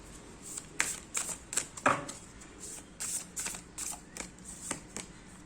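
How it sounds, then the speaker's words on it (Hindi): Destiny oracle cards are shuffled and drawn by hand, giving close, soft papery riffles and flicks in irregular bursts, with a few sharper snaps among quieter rustling. "मैं डेस्टिनी ओरेकल से कार्ड्स निकालती हूँ।"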